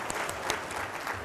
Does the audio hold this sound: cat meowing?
no